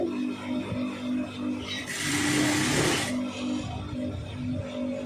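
A sewing machine stitches a blouse nearby with a steady mechanical whir. A louder, rasping burst of running lasts about a second, then the motor settles back to a low hum.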